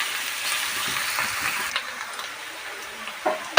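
Chopped onions fry in a hot pan with a steady, close hiss of oil, interrupted by a couple of small clinks near the end.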